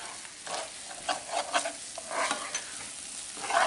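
Corn fries in a pan while being stirred, a steady sizzle broken by a scatter of scraping, clattering strokes of the spoon at close range.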